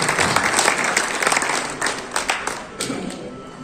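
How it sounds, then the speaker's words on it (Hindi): Loud, dense clapping fills a hall throughout at a Samajwadi Party workers' meeting in Kiratpur as the audience applauds, with a few sharper claps standing out near the end. "आप जोरदार तालियों से इनका हौसला"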